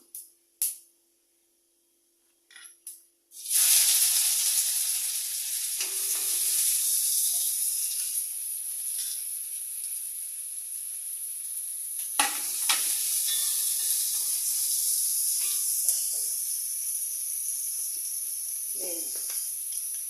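Sliced onions hit hot oil in a pan already holding cinnamon bark and fennel seeds, setting off a loud, steady sizzle with occasional stirring scrapes, preceded by a few brief clicks.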